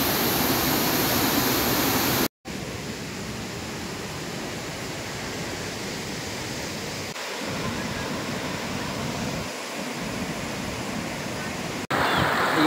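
Floodwater pouring into a house in the Udaynarayanpur flood area, a steady close rushing roar throughout, briefly cut once near the start and again at the end.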